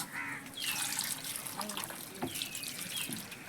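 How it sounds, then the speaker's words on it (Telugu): Water poured over freshly picked wild fruits to wash them, a steady splashing trickle close by with an outdoor bird calling faintly in the background. "అయితే నీళ్ళు పోసుకుంటున్నాను"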